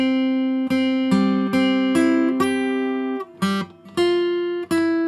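Guitar notes played plainly without vibrato, a series of clear plucked tones with steady, unwavering pitch, each note ringing out alone and close.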